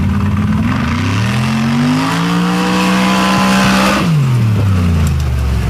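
Nitrous drag racing car launching at Sanford, the engine screaming loud and close as revs climb steadily through the run before dropping sharply as it backs off.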